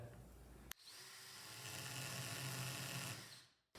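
An electric drill whirs steadily for about three seconds, boring up into the base of a pine cone. It starts after a brief click and stops abruptly near the end.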